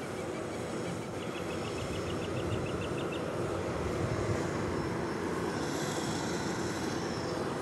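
A jet airliner rumbles loudly and continuously on the field at Dallas Love Field airport, a broad steady roar with a faint whine above it, heard alone without talk.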